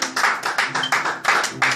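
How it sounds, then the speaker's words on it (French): A church congregation claps for the glory of the Lord in a rhythmic, even beat of sharp claps, about two per half second, fairly close and unaccompanied by talk. "Est-ce qu'on peut acclamer pour la gloire du Seigneur?"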